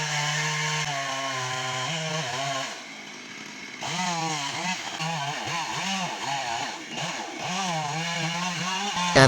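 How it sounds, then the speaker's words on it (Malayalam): A chainsaw cutting into a tree during felling outdoors in Palakkad, Kerala, its loud buzzing whine rising and dipping as the throttle is worked, dropping briefly to idle before revving hard again, with a voice talking over it. "മരം വീഴാൻ പോകുന്ന ദൃശ്യങ്ങളാണ് ഗൈസ്"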